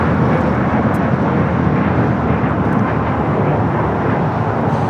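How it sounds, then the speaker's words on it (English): United Airlines Boeing 737 MAX 8 taking off at LAX, bound for Cleveland: a loud, steady broadband jet roar that holds a constant level throughout, with no voices over it. "1251 taking off to Cleveland on the MAX 8."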